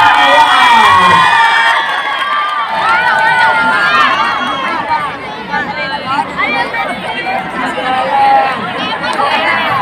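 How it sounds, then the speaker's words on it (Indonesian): A boarding-school audience at a debate between student organisation leadership candidates cheers and shouts loudly throughout, a dense, excited crowd roar with overlapping voices. "Berikan tepuk tangan yang meriah untuk calon-calon OPM Batayat."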